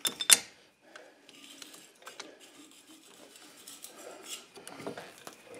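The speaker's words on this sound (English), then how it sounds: "we can remove the cotter pin" Faint metallic clicks and scrapes of pliers working a cotter pin out of a muddy Jeep front axle shaft nut, starting with a few sharp ticks and followed by quiet rattling and scraping, close and sparse.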